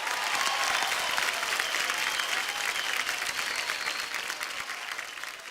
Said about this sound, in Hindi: अन्नू जी के लिए तालियां।